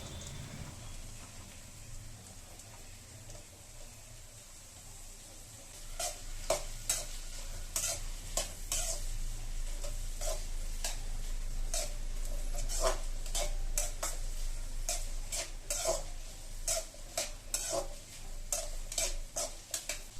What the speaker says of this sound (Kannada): ಗೋರಿಕಾಯನ್ನ ಹ್ಯಾಡ್ ಮಾಡಿಕೊಂಡು ಒಂದು ಹತ್ತು ನಿಮಿಷ ಈ ರೀತಿಯಾಗಿ ಫ್ರೈ ಮಾಡ್ಕೊಳ್ತೀನಿ